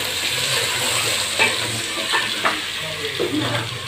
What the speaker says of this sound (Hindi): चिकन भी अच्छी तरह फ्राई हो जाएगा